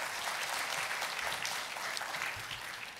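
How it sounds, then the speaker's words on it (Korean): An audience at a science and technology forum applauds to welcome a former minister to the stage. The clapping is dense and continuous, heard at a moderate distance and fading slightly toward the end. "우리 김도현 전 장관님을 큰 박수로 맞이해 주십시오"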